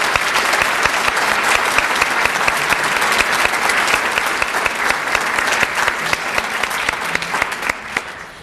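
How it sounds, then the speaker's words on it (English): Sustained applause from an awards ceremony audience for a group of students, dense continuous clapping from many hands that holds steady and fades out at the very end. "If we could have a round of applause for these students."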